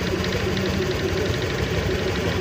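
A noisy Honda Click 125 scooter engine idling, with a steady, loud mechanical hum and a rough knocking rattle throughout, heard alone with no talking.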